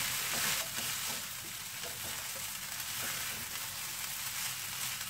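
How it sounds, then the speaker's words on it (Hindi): Schezwan fried rice sizzles steadily in a hot pan while being stirred, a continuous hissing crackle at moderate level with faint scraping, no voices. "आपको सिजलिंग साउंड भी आ रही होगी."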